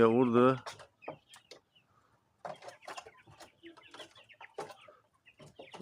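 Chicks cluck and peep in bursts while pecking at chopped alfalfa in a farm enclosure, close and moderately loud, with a brief louder call at the start and quieter scattered chirps after.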